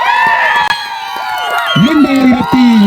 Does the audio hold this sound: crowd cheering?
yes